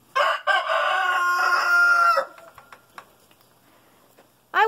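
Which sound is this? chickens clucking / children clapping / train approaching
chickens clucking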